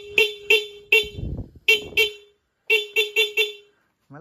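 A motorcycle's dual horn, still wired with the stock horn, gives repeated short beeps close up, about nine blasts in irregular bursts. A brief rustling noise falls between them, and the sequence is not especially loud.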